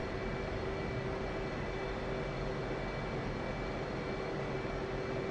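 An F/A-18 jet engine idles with a steady, even roar and a constant high whine while the aircraft taxis toward the runway in the DCS World flight simulator, with no pause or change throughout.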